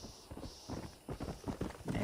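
Horse hooves clip-clopping in the Western video game Red Dead Redemption, a stallion moving at a steady walk with repeated close thuds and a faint background bed, growing slightly busier toward the end.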